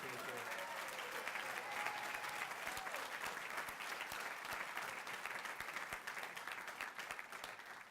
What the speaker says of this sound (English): how about a round of applause once again for